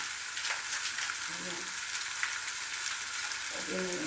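Ground beef sizzles loudly in a hot pan with steady crackling, and brief low clinks and muffled sounds of stirring break in now and then, while being pre-cooked for a tortang talong (eggplant omelette).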